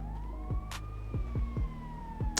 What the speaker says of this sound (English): Why do I still hear the police?